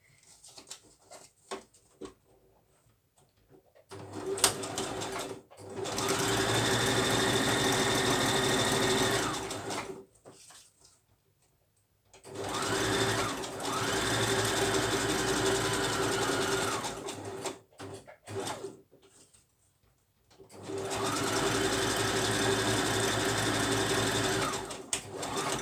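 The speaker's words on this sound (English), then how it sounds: "quickly take it to my sewing machine, which is right next to me. So I'll keep the camera going and you'll hear it in the background" A sewing machine stitches a fabric collar pocket for a junk journal in three long runs of steady motor whirring, separated by pauses with small handling clicks and rustles, close by with no talking.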